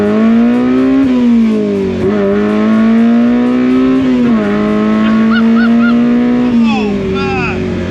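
A K-swapped Mini Clubman's engine holds a loud, high-revving motorbike-like wail close by, rising and dipping through several gear changes with a few sharp blips, while voices talk faintly underneath.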